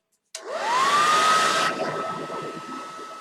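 A hair dryer switches on abruptly to dry ink on a canvas bag, its motor whining up in pitch to a steady loud blowing roar that eases slightly as the airflow shifts, close by.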